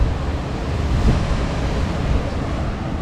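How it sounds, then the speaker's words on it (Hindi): Sea waves surge and wind rushes steadily at Diu Fort on the coast, a continuous loud roar with gusting swells and no voices. "और पीछे समुद्र।"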